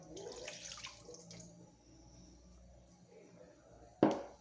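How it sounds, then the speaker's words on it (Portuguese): Room-temperature milk poured into a mixing bowl for bread dough, a soft, steady liquid trickle over roughly four seconds, close by, ending in a sharp knock of the container. "Então, nós vamos colocar aqui primeiro o leite."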